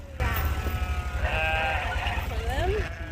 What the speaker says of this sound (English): The sheep we raise are Katahdin, which is a hair sheep.